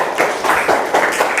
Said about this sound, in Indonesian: tepuk tangan untuk Anda semuanya ya